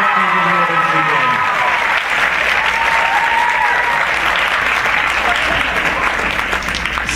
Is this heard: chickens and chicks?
no